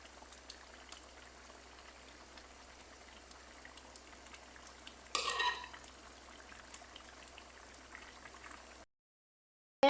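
Falsa sherbet syrup bubbles in a pot, a steady, soft seething hiss with a brief louder bubbling stir partway through, then cut to silence.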